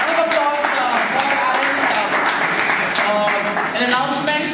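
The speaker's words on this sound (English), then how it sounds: "Round of applause for" An audience claps steadily for a full stretch at a live debate event, a dense, even wash of applause with voices talking over it.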